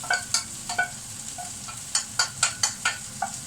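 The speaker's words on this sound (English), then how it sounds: "in goes the onion" Onion frying in a pan with chicken for a peanut butter, garlic and chilli stir fry: a soft steady sizzle under a series of sharp, rhythmic stirring and scraping clicks, close by.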